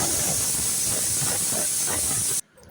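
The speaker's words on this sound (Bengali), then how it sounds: "এটাকে লাগিয়ে দিচ্ছি একটা সিটি" A pressure cooker holding chopped okra with salt and a little water lets off a loud, steady steam hiss that cuts off abruptly near the end.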